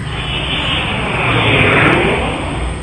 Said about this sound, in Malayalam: ഒരു ജെറ്റ് വിമാനത്തിന്റെ സൗണ്ട് അല്ലേ ആ കേൾക്കണത്?